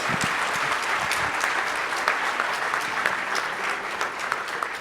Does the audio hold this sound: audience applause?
yes